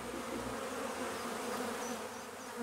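A swarm of honeybees takes over a hollow fruit tree, their dense, steady buzzing filling the air continuously and loudly without any voices.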